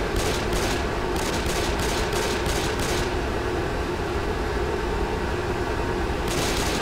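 Rapid automatic gunfire from Left 4 Dead 2 rattles continuously and loudly, with dense bursts of shots layered over a constant rumbling game din.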